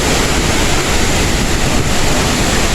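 Broadband roar of water crashing down a waterfall, steady and loud throughout with no breaks, heard close to the falls with no talk.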